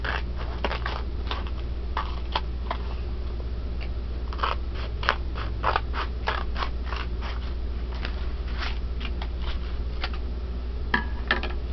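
Scissors snip through paper to cut strips for a homemade notepad, a quick series of crisp close-up cuts that come in uneven clusters over steady low background noise.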